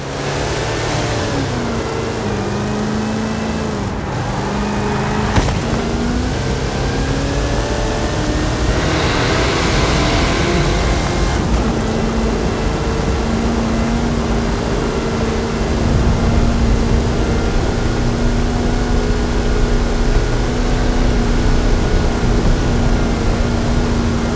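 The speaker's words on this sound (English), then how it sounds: "XC1 chassis, 540 cubic inch Chevrolet engine, 66 inch Terra tyres. It's a beast!" Forza Horizon 5 Hot Wheels build on an XC1 chassis with a 540 cubic inch Chevrolet engine and 66 inch Terra tyres, its engine droning loud and steady throughout with rising revs and shifting pitch, no voices.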